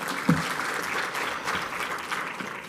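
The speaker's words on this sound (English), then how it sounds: "Another round of applause, please." Steady applause from a crowd at a forum launch event fills the whole stretch, dense clapping with no pauses.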